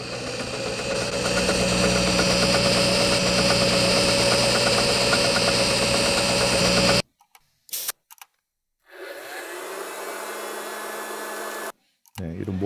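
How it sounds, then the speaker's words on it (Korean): Motor sounds from a household sound effects library: a loud, steady mechanical hum with a ticking rhythm runs for about seven seconds and cuts off, then a few short bursts, a lower droning motor segment, and a final brief start. "이런 모터 소리들"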